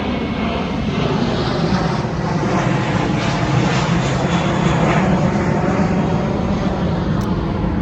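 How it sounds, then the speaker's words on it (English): An airplane passes overhead with a loud, steady engine roar that fills the whole stretch, sustained and even without fading. "hold on, there's a plane"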